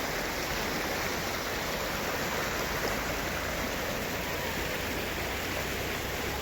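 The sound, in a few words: river water flowing in Betaab Valley, Kashmir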